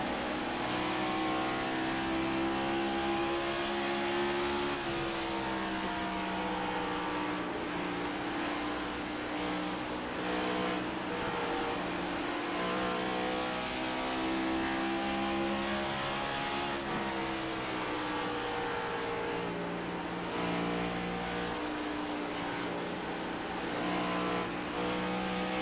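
On-board engine roar from race car 24 in a Next Gen Cup race at Dover, a loud continuous drone whose pitch rises and dips gently as the car works through the laps.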